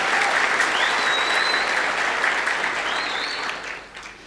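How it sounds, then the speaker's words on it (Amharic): Audience at a motivational talk on character gives a burst of dense applause, loud and sustained, then tapers off near the end. "እስቲ አጨብጭቡ አንድ ጊዜ።"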